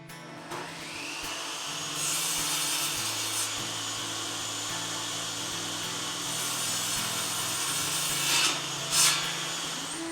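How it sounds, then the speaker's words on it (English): Wooden rails and stiles for a router station door being cut to rough length with a table saw, a steady close loud whining buzz held for about ten seconds, with brief rising surges near the end and no talk. "Now I'm going to cut the rails and stiles to rough length, removing the planer snipe from the boards."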